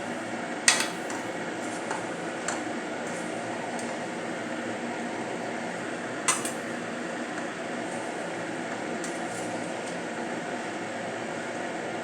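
A sugar and jaggery mixture for dink laddoos being stirred in a pan as it dries, a steady sizzling hiss under occasional sharp clinks of the spoon on the metal, with no one speaking.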